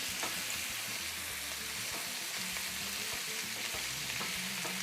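Chicken frying in a pan with swirled butter, a steady crackling sizzle running throughout, close and even with no voices.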